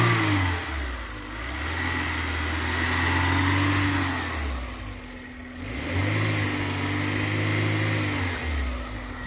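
A Suzuki Jimny with a converted 1.6 engine runs close by with a slight misfire, its low hum rising and falling in two long swells over a steady idle.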